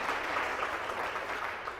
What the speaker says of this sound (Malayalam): ഗായക സംഘത്തിന് ഒരു കൈയടി കൊടുക്കാം.